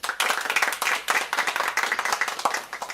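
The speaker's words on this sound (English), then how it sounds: "Let's hand these children another round of applause." A crowd claps steadily, dense overlapping handclaps filling the room for a few seconds, fairly loud and close.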